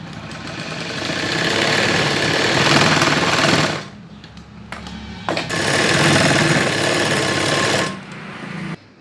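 A sewing machine stitches baby pant fabric, sewing elastic along the edge. It is a loud, steady motor whir in two long bursts, with a short pause and a brief stop in between and no talk.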